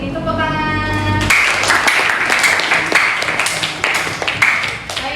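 A school class bursts into applause after a sustained voice, brisk many-handed clapping that stays loud and uneven for several seconds.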